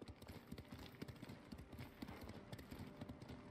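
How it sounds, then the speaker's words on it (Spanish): Horse hooves clip-clop in Ghost of Tsushima, a quick, steady galloping rhythm of sharp thuds that stays close and prominent without a break, with no speech heard over it. "Me voy a montar en el caballo"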